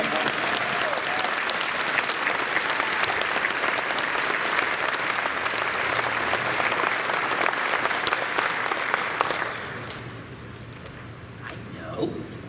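Convention closing-ceremony audience gives a loud, sustained round of applause for about nine seconds, then it fades to a quieter room with scattered voices and a last clap or two.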